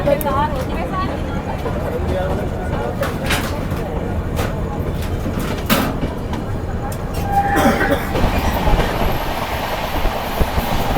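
A passenger train on the Delhi–Azamgarh line rolls steadily inside a coach, a constant loud rumble with rhythmic clatter and occasional squeals, while people talk faintly nearby.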